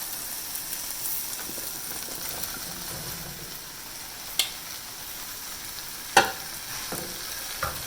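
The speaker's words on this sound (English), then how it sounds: "then I'll be adding in the cauliflower now" Cauliflower tipped into a hot pan for gobi bhaji, frying with a steady low sizzle and hiss while it is stirred, with a few sharp clinks of the spoon against the pan and no talking.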